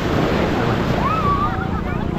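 Choppy sea waves at a beach in Zambales, a loud continuous wash of surf mixed with wind buffeting the microphone, with a faint voice briefly rising above it.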